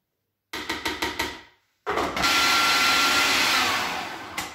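Food processor blitzing dates into a paste, first a run of short rhythmic pulses, a brief pause, then a long loud continuous whirring grind up close, with no talking.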